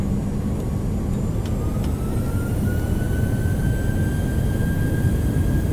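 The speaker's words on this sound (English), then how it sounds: "Set takeoff thrust." Boeing 737 engines spool up to takeoff thrust in a flight simulator, a steady loud roar with a slowly rising whine that holds throughout.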